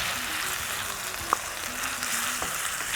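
Onions frying in a pan with ginger garlic paste and tomatoes, a continuous close sizzle with soft stirring scrapes and a single sharp clink partway through.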